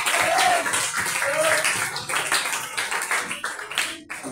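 Church congregation clapping at an anniversary gathering in Barbados, a continuous crowd of hand claps that thins toward the end, with some voices mixed faintly underneath.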